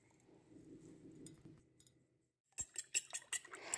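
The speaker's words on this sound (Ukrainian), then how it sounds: "Яйця добре збиваю вилкою." A fork beating eggs in a bowl, quiet rustling at first, then a burst of rapid, close metallic clinks and taps after a short pause.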